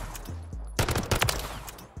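Gunfire from a gun fitted with an EXF Eclipser grip in Call of Duty MW3 ranked play: a dense burst of rapid shots begins partway through and runs to the end, loud and close, with no speech.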